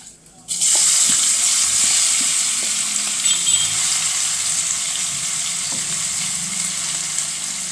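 Prawns sizzle steadily in a hot pan while being fried for a prawn pickle, a loud continuous hiss that starts abruptly and holds, with occasional soft scrapes from stirring.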